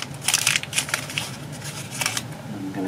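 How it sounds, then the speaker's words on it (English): Crumpling of a craft leaf for a DIY fall garland, a run of close, crisp crinkling bursts that come in quick clusters and pause briefly between squeezes. "I'm going to crumple it a little just so it looks a little more realistic."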